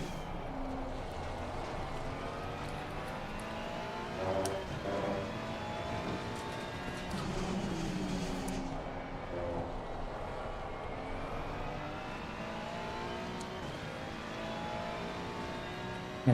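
Ferrari and Audi race cars run in a racing video game, a steady engine drone with rising and falling revving tones as the cars accelerate and pass, moderately loud and continuous.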